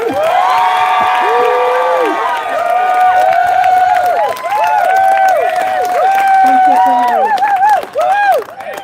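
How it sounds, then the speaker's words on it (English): Crowd at an outdoor march in London cheering and shouting loudly, many raised voices whooping and calling in overlapping waves, with clapping mixed into the continuous roar. "Everybody please put your hands together. The biggest cheer you've ever heard in your life."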